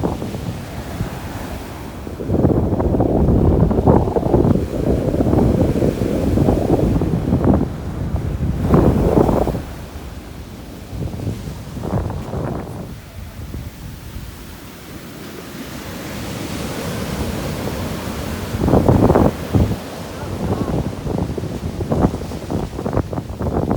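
Waves wash onto a beach at high tide in surging bursts of surf, heavy wind roaring across the microphone between them, loud and close throughout.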